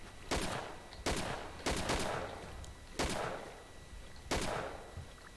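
Rifle shots in the World War II shooter Darkest Hour '44-'45, five sharp separate cracks spaced about a second apart, each trailing off in a short echoing decay over quiet background.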